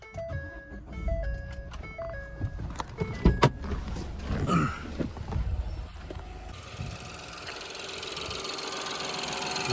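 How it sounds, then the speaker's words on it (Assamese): A Ford EcoSport petrol engine is started by push button: chimes and clicks first, then a sharp cranking burst as the engine catches and settles into a steady hum, with no one talking. "চ' গাড়ীখন ষ্টাৰ্ট কৰি মই ইঞ্জিনৰ চাউণ্ডটো শুনাই দিওঁ আপোনালোকক"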